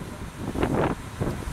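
Gusty wind buffeting a microphone by the Sea of Galilee in Israel on an overcast day, a low roaring rush that swells twice over a brief moment, with no voices.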